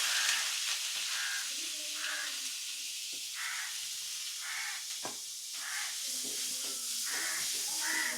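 Fennel seeds and onion fry in a pan for a shrimp fry, giving a constant loud hissing sizzle, while crows caw repeatedly in the background.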